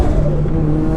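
A Toyota GR86 fitted with an HKS turbo kit pulls hard under boost, a loud, steady engine drone with a sustained tonal whine, close to the mic.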